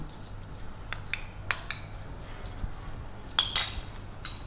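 Spices being stirred into raw mutton pieces in a bowl with a spoon for mutton curry, soft scattered metallic clinks and scrapes against a quiet background.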